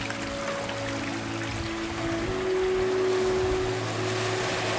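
Gentle waves wash onto a shore with ships offshore in a nature video game, a steady soft wash under a sustained musical tone, even and unbroken throughout.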